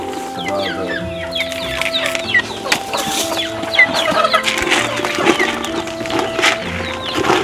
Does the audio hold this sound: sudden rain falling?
no